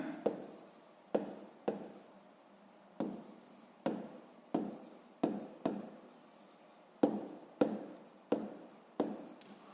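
Handwriting with a pen on paper while working a fifth-grade math exercise: repeated short scratchy bursts of strokes, steady and close, fairly quiet, with no talking.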